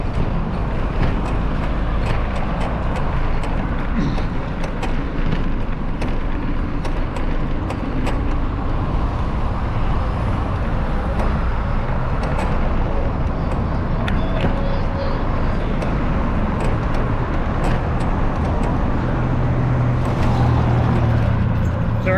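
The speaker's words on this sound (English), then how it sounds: "going into crazy Xalapa traffic here with crazy Dickie Roy" A car pushes through busy traffic in Xalapa, Mexico, with continuous engine hum and road rumble close by, broken by faint clicks and passing vehicle noise.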